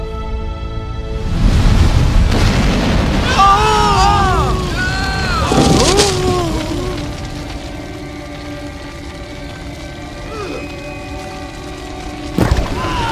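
Dramatized fire plunging from heaven in a scene of the God of Abraham against Baal's prophets: a deep, loud rumbling boom surges, then crackles, with shouting voices and a sharp burst near the end.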